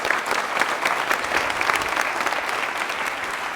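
Loud, sustained audience applause at a college quiz show event, a dense continuous clapping from many hands filling the whole stretch with no talk over it.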